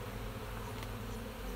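Honey bees swarm around an open hive frame, a dense, steady, close buzzing hum that fills the moment without pause or speech.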